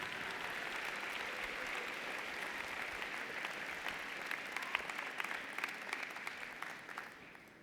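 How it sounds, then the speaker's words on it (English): A commencement crowd at an engineering college claps steadily for graduating student leaders, with individual sharp claps growing more distinct as the applause tapers toward the end. "Please give your student leaders a round of applause."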